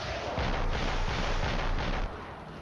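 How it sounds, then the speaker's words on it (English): Artillery fire in the Flashpoint military video game, rendered as a dense rolling roar of booms and rumbling blasts that hold loud and steady for about two seconds, then ease off slightly. "we can probably hit them with artillery"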